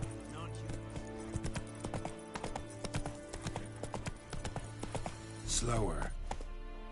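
Steady, close galloping hooves from the horse Roach in The Witcher 3 sound under a man's speech, the rhythmic clip-clop running through most of the passage before a brief rustling burst near the end.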